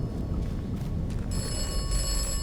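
In the video game Atomfall, set in post-apocalyptic Cumberland, a telephone rings with a bright electronic trill that starts partway through and continues over a low, rumbling background.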